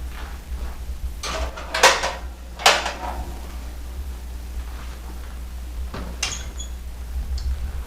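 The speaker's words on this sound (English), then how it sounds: "now it's ready to go in the oven" Stuffed turkey going into the oven: a few clattering knocks and the thump of a door or rack over a low steady hum, then quieter clicks and a faint tap near the end.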